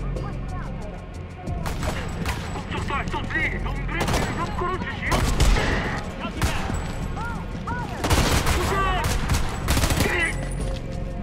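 Gunfire in the video game Homefront The Revolution: repeated loud bursts of shots and impacts across the whole stretch, mixed with game noise and voices talking over the action.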